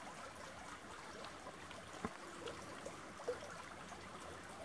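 Water running through a quiet night landscape near a long barrow, a faint continuous trickle and stream wash with a few soft isolated knocks, distant and low in level.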